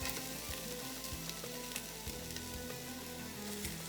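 Onion and garlic sizzle steadily and loudly in a pot of hot fat, a dense continuous crackle with occasional utensil knocks, no voices.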